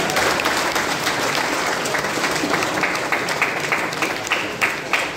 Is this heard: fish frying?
no